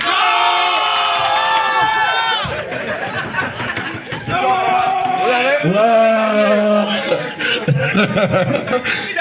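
A large crowd erupts in loud shouting and cheering, voices overlapping in a sustained roar with rising yells.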